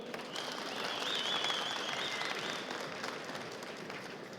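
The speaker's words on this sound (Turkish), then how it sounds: "O zaman büyük bir alkış daha alalım." A crowd at a tractor auction at the Konya fair applauds in a steady, moderately faint wash of clapping that swells slightly and then eases, with a faint whistle or tone near the start.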